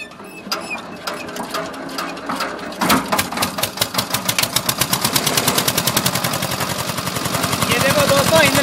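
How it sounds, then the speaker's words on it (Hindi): A diesel engine cranks with loud, evenly spaced mechanical knocks that quicken and merge into a steady, hard-running clatter, close and alone with no talking. "अभी इंजन स्टार्ट करते हैं।"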